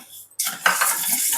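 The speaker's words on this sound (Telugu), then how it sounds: "కందిపప్పు వేసుకొని వేయించుకోవాలి" Toor dal is dry roasted in a small pressure cooker pan, stirred with a spoon. After a brief quiet moment, a close, continuous rattling scrape of lentils across the metal follows without pause.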